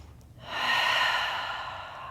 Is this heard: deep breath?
yes